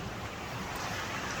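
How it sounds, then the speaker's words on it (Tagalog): A steady, dense roar of surf and wind at high tide on a white-sand beach fills the air, constant and fairly loud, with no distinct breaks. "Sobrang alon."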